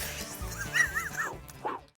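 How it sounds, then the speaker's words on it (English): A cute dog on a winter ice-fishing trip on Lake Erie gives soft whimpering yips and whines, a few short rising cries, fairly faint and close. "What's a TV show without a cute dog?"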